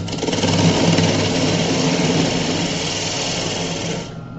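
Wood lathe turning a wooden seed tray for a bird feeder, a steady close whirring and rasping cut that runs continuously, then eases off and drops at the end.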